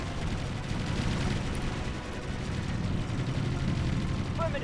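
Heavy gunfire from a battle in the real-time strategy game Ground Control 2 forms a dense, continuous roar of shots and rumbling, steady and loud throughout.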